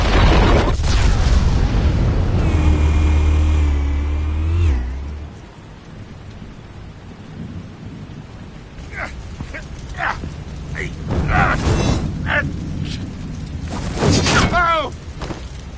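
Armed explosives fire in a Batman animated episode: heavy booming blasts and rumbling crashes, loud at first and then scattered sharp bursts and debris clatter amid noisy action, with voices briefly present.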